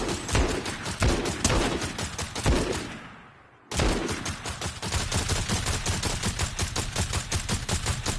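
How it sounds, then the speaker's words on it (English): Rapid, dense bursts of gunfire in Fortnite on PS5 as walls are shot, loud and close, with a brief lull before the firing resumes without pause. "you're only shooting the walls because you want to make sure you're not hitting them"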